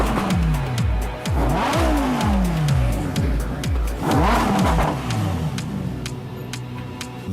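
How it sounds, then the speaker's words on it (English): A Lamborghini Huracán EVO V10 engine revs hard again and again on a factory test, pitch sweeping up and dropping in repeated bursts, loud and close with a raspy high-pitched howl. "He starts the V10 engine"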